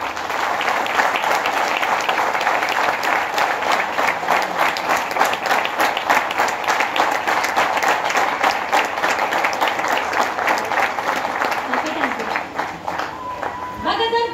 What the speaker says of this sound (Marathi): एकदा जोरदार टाळ्या उद्या मग.